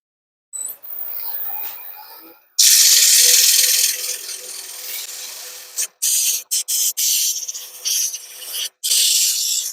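Hand sanding with 120 grit sandpaper through built-up CA glue on a workpiece, loud close rasping strokes, one long stretch then several short bursts separated by brief pauses, no voices.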